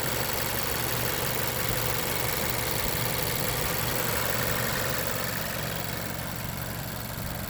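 Mazda CX-5 2.5 litre mild hybrid petrol engine idling with a steady, even low hum and hiss heard close up and uninterrupted throughout, no voices.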